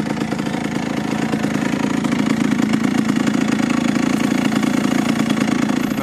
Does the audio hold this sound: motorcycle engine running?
yes